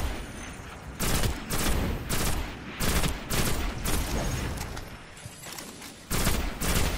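A powerful special rocket launcher fires repeatedly in the video game Destiny, with loud, sharp blasts and explosions in bursts roughly every second or two over a rumbling battle background.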